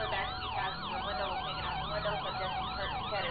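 Several police sirens in GTA 5 with the LSPDFR mod wail at once in fast, overlapping up-and-down sweeps, loud and continuous with no voices.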